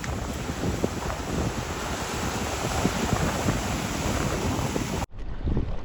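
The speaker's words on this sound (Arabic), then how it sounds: "راه كاين الريح اللهم بارك" Strong wind roars steadily across open sea from a small fishing boat, loud and continuous with gusting microphone buffeting, then cuts out briefly near the end before resuming.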